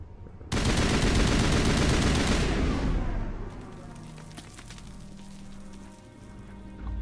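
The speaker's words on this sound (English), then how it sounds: "Shoot it a bunch." Loud, dense automatic gunfire in the Mass Effect Legendary Edition video game, a sustained burst of rapid shots that cuts off after a few seconds into lingering rumble and scattered softer impacts.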